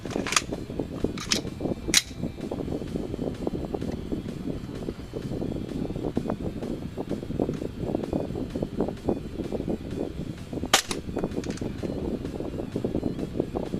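An HFC AG-17 Glock airsoft pistol fires 0.2 BBs on power-up gas into a puff dyno chronograph, a few sharp snappy shots spaced apart over faint background noise.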